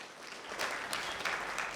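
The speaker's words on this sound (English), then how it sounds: "So please let's give him another round of applause" Audience applause at a manifesto series event, a steady wash of clapping from a crowd throughout, fairly even with slight swells, no talk over it.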